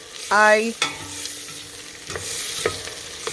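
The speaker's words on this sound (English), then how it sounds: "we're going to add our garlic." Garlic sizzles in a hot pan for pasta fagioli, with a short squeaky scrape and a few sharp utensil clinks from stirring over a soft frying crackle.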